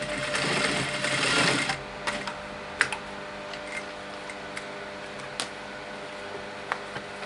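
A sewing machine darns curtain fabric for a goblet curtain, a loud fast whirring run for about two seconds that stops, followed by scattered ticks and clicks as the work is handled.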